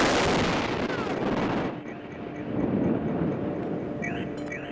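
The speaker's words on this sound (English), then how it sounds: "The booms created a mushroom cloud of frightening proportions" A huge MythBusters explosion with a mushroom cloud, heard as a heavy rumbling boom that fills the opening seconds, then cuts away to a lower, distant rolling rumble and wind.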